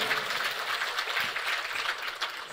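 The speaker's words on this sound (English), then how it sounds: "Let's give her a better round of applause than that." An audience at an evening Gyan Yagna religious gathering gives a full round of applause, a dense, steady patter of many hands with no voices over it.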